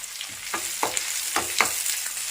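Small onions and garlic sauté in a pan under a steady hiss, with a handful of distinct stirring scrapes spaced through the short stretch.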